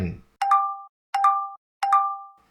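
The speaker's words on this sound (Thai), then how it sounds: "รอจนสัญญาณร้องบอกเบาๆ ประตูจึงปลดล็อก" An electronic door lock chimes three times in an even rhythm, each short bright two-tone beep ringing clean and close with silence between, just before the door unlocks.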